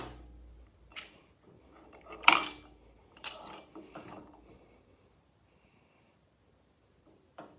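Metal compensator parts from a Harley-Davidson are taken off and handled, giving sparse clinks, scrapes and small metallic knocks that are quiet and close, with one sharper clack, a few more light taps, and then near silence.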